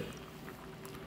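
Coconut-based varutharacha chicken curry bubbling steadily in a pan, a soft continuous simmer of small bursting bubbles, close by and fairly quiet, with no talking.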